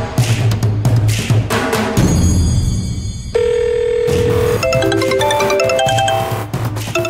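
A phone rings for an outgoing call in a domestic television drama scene, with tonal ringing and beeping tones that step between pitches over a background of other sounds.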